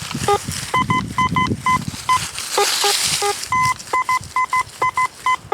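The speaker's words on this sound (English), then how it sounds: "I want to show you guys this awesome signal I have." Repeated short electronic beeps from a metal detector, ringing in quick bursts of two tones, loud and close, with rustling of digging between them.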